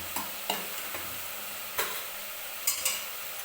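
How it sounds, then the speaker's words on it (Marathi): Mutton is stirred with salt and turmeric in a pan, a soft steady sizzle under scattered light scrapes and clinks of the spoon against the pan, no voices. "मटण छान मिक्स करून घेतलेलं आहे मी. तर आता याच्यामध्ये हळद आणि मीठ टाकून घ्यायचं आहे."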